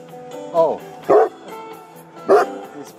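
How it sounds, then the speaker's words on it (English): A young dog barks three times in short, sharp bursts spaced about half a second to a second apart, close by and fairly loud, with no other sound between them. "He's probably a young dog, I don't know."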